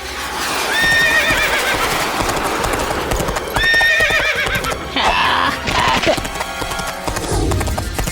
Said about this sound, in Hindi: अरे ये घोड़े आसमान में कैसे दौड़ रहे हैं?